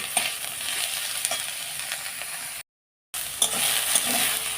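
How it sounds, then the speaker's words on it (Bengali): Steady sizzling of soybean chunks frying in hot oil, with occasional stirring scrapes and a brief total silence partway through. "এইবার তেলের মধ্যে সয়াবিনটাকে দিয়ে হালকা করে একটু ভেজে নেব"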